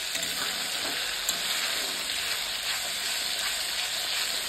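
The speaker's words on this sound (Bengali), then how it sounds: "নুন দিয়ে ভালো করে মশলাটাকে কষিয়ে নেব যতক্ষণ না মশলা থেকে তেল ছাড়ছে" Salted spice paste sautéing in a pan for a cauliflower and potato curry gives off a steady, close, even sizzle with faint stirring scrapes, and no one talks over it.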